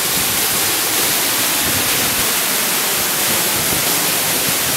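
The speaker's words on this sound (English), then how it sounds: "So you got this nice waterfall coming right off. This is all glacier runoff right here." Glacier runoff pours as a waterfall beside the road at Worthington Glacier in Alaska, a dense, constant hiss of rushing water, loud and close, with no voices.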